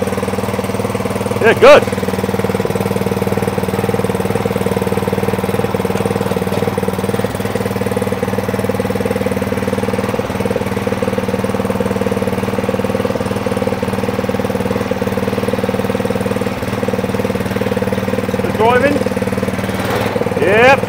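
Atco Royal B24 lawn mower engine idling steadily and close by, a constant low putter throughout with a brief blip near the start, while someone says a couple of words.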